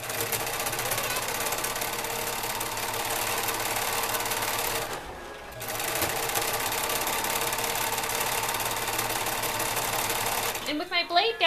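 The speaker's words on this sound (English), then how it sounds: "with my blade down, it's cutting off that extra microfiber terry towel that's underneath and sealing it" A sewing machine with its blade lowered trims and seals the edge of a microfiber terry towel diaper doubler, a loud continuous mechanical whir that runs nearly throughout, pausing briefly midway and stuttering at the end.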